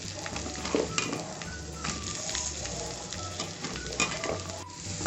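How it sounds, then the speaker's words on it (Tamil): Onions sizzle and fry steadily in a pan with whole spices for butter chicken masala, a close, continuous crackle with occasional stirring scrapes and no talking. "வெங்காயம் கொஞ்சம் வதங்கினா போதும்"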